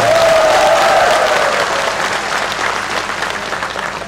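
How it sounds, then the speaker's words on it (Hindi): Audience applause at a political gathering in Tezu, a loud sustained burst of crowd clapping lasting a few seconds, with a faint tonal note early on and easing slightly toward the end. "एक बार आप लोग जोर से ताली बजा दीजिए।"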